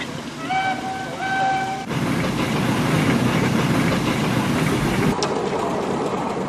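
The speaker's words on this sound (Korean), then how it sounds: "이때 등장한 것이 증기 엔진." A steam-powered tractor engine chugs and rumbles steadily at close range, loud and continuous, after a brief high whistle-like tone at the start.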